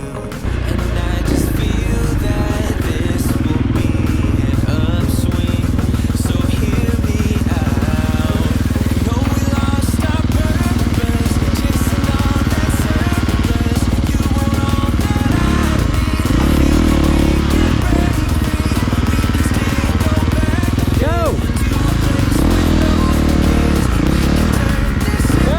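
A dirt bike engine runs hard off-road for a long stretch, loud and close with a continuous rasping drone, repeated throttle swells and rev changes, and clatter over rough ground.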